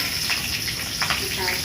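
Mustard seeds spluttering in hot oil while kundru bhujia is being cooked, a steady dense crackle and hiss with small popping bursts throughout, close and moderately loud.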